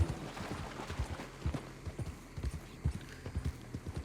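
A horse gallops in Red Dead Redemption 2, with rhythmic, fairly quiet hoofbeats repeating in quick triplet clusters for the whole stretch.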